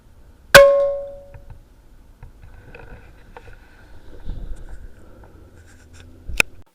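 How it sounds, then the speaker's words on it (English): Two sharp metallic taps strike the barrel of an FX King 600 PCP air rifle: a bright, ringing ping that decays over about a second, faint handling noises, then a second, shorter tap near the end. "you've only got to tap the barrel like this"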